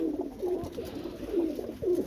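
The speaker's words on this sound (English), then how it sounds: "That's one of my very best pigeons." Domestic roller pigeons in a competition kit coo softly with low, repeated bubbling calls and a steady background murmur.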